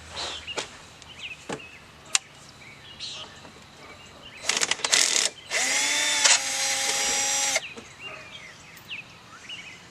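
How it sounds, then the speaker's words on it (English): A cordless drill drives screws during an install, with short bursts of motor whir followed by a loud, sustained ratcheting clatter as the clutch slips, all close up and without talking. "What you may have just heard is the clutch system on my drill."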